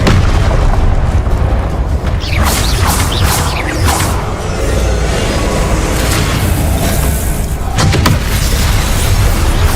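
Loud booming blasts from the Confringo fire spell in Hogwarts Legacy erupt repeatedly over a dense, roaring combat din, with several sharp impacts standing out.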